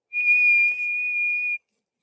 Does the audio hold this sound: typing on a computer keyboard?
no